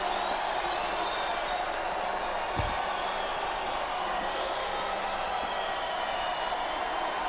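Capacity arena crowd roaring steadily throughout a WWE SmackDown vs Raw 2008 match, a dense wash of cheering with a single sharp thud partway through.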